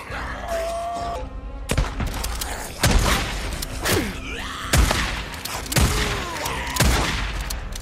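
Shotgun fire in the video game Days Gone: a series of loud, heavy blasts about once a second, each with a booming low thump and rattling tail, over constant game noise and creature groans.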